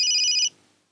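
A telephone rings with a single short electronic trill burst that is bright and close, cutting off abruptly after half a second into near silence.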